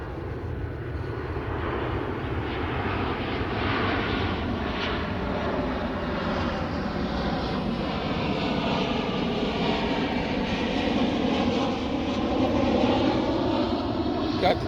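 Jet airliners fly in toward a nearby airport down the road, a steady broad roar that holds for the whole stretch, distant but continuous, heard outdoors near water.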